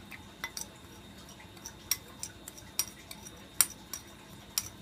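Seasoning being stirred into olive oil for tilapia fillets, a utensil scraping and clinking against a bowl in soft, irregular taps and scrapes, close and fairly quiet, with no talking.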